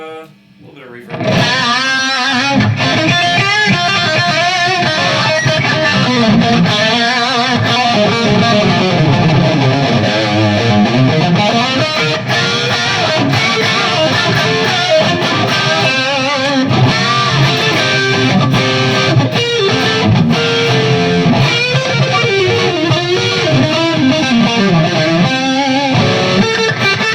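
A distorted electric guitar plays through a Kemper Profiling Amp using its built-in overdrive and added reverb, with loud, sustained riffing that runs continuously for the full length after a brief quiet start.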